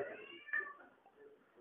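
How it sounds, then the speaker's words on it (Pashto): A cat meows once, a short, fairly faint cry in an otherwise quiet indoor space, with a slight rise in the middle and no other voices. "پیشو ده پیشو"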